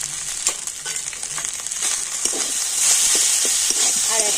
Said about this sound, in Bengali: আর এখন আমি সবকিছু ভালো করে নাড়াচাড়া করে একটা পুর তৈরি করে নেব।